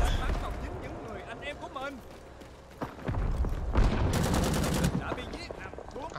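A Rising Storm 2 firefight with ARVN forces brings close rifle and machine gun fire, with scattered shots early and then a sustained rapid burst of automatic fire near the end.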